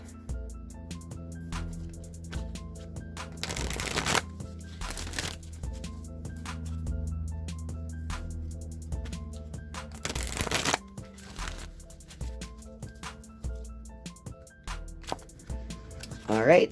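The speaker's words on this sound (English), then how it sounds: "I'm going to shuffle the Wisdom of the Oracle" A deck of Wisdom of the Oracle cards is shuffled at close range in a few short bursts of riffling and flicking, set against soft, steady background music.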